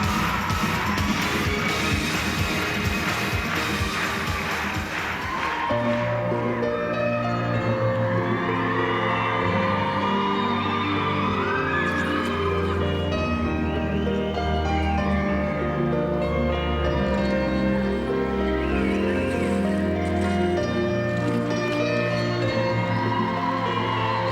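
A crowd of 9,000 at the 2008 figure skating World Championships men's free skate claps in a rhythmic, loud roar at first. Then music with a sustained melody takes over, with crowd noise underneath.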